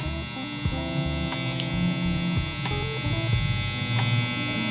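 An electric hair trimmer buzzes steadily during a barber's low taper mullet haircut, a close, loud hum with slight changes in pitch as it moves through the hair.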